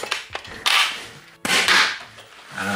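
A Nerf Zombie Driller blaster fires two shots, each a sharp snapping crack followed by a rushing burst of air, spaced under a second apart at close range.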